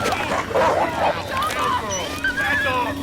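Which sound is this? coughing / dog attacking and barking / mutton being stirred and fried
dog attacking and barking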